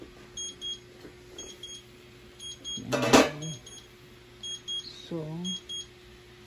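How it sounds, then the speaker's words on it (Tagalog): A kitchen timer beeps in short repeated pairs of electronic tones after steaming pichi-pichi, clear but modest, with a loud clatter midway and someone speaking in between. "Yan, tumunog na po yung ating timer."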